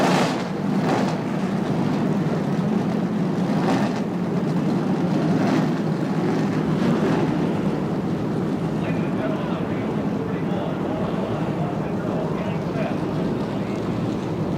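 Race car engines fire up at the start of the 1993 Daytona 500, a dense, steady roar filling the track with no break, with voices and crowd noise mixed into the din.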